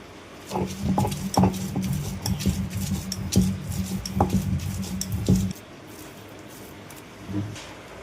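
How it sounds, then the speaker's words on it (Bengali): Yardlong beans ground by hand on a stone grinding slab, a steady run of rough scraping and thudding strokes for about five seconds under a faint hum, then quiet. "মা এবার বরবটিগুলোকে শিলে বেটে নিচ্ছে"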